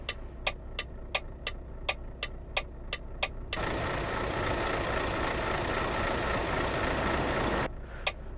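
A heavy truck engine in a truck driving video game on a London to Spain haul: rhythmic ticking for a few seconds, then a loud, steady broadband roar that cuts off as the ticking returns.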